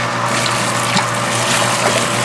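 Water from a hot hose pouring into a bourbon mash while a mash paddle stirs it, a steady close rushing splash with a low hum underneath, brief and continuous, without talk.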